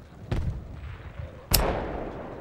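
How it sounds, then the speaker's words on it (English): Mortar shells striking a forward operating base in a military video game: two sharp, heavy impacts about a second apart, the second louder and followed by a rumbling decay. "Oh shoot, they're mortaring this fob"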